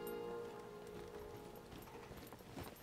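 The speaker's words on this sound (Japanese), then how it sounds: "足音がする。" Footsteps in the SCUM survival video game thud faintly in a quiet, dim setting, a soft rhythmic clopping that grows slightly busier toward the end, with no speech.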